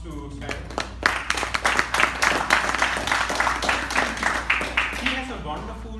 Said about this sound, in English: Can we give a round of applause to Skylar?